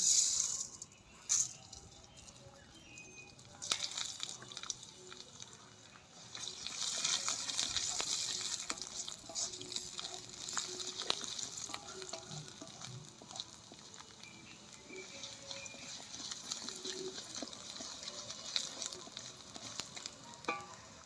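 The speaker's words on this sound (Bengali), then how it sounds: "তেলটা গরম হয়ে গেছে, এইবার আমি গোবিন্দভোগ চালটা দিয়ে দেবো।" Gobindobhog rice frying in hot mustard oil in a kadai gives a continuous soft sizzle with scattered rattling grains and occasional stirring scrapes, close and moderately quiet, with no voices.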